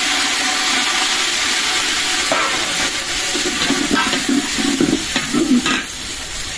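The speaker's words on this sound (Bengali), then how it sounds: "পেঁয়াজটা ভাজা হয়ে গেছে, একটু পানি দিয়ে দিলাম।" Onions fry in a pan with a little water just added, giving a steady hiss and sizzle throughout with occasional stirring scrapes, close and fairly loud, no talking.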